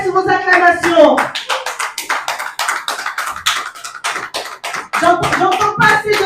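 An audience claps for the artist Fabregas in a steady, rhythmic beat of sharp, close hand claps, with voices calling out over the clapping.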